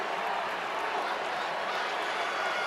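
Florida State fans in a small section far across a college football stadium chant defense, a steady broad crowd roar filling the air with no clear individual voices.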